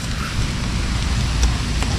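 Steady rain falling outdoors during flood-season net fishing, a dense continuous patter with a few sharper drop hits, fairly loud and without talk.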